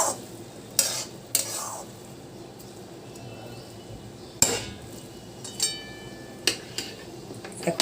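A spatula stirs fried prawns with ash gourd and Gobindobhog rice in a pan. Sharp metallic clanks and scrapes come at irregular intervals over a low, quiet sizzle.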